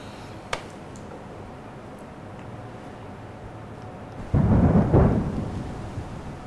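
A rumble of thunder rolls in before rain, beginning after a quiet stretch with a sharp tick, swelling loudly and then slowly fading into a low wash.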